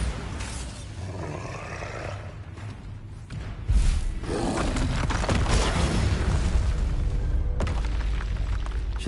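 A Bombarda blasting spell in Hogwarts Legacy detonates as a heavy, booming explosion with a deep, sustained roaring rumble, loud and close, followed by a long low tail of debris and reverberation.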